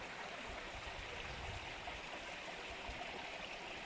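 Water from a spring pours out on all sides, a faint, even rushing and trickling wash that carries on steadily without a break.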